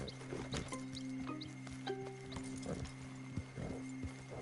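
Video game horse hooves clip-clop in a steady rhythm over a low hum and background tones, with a horse snorting amid the trotting.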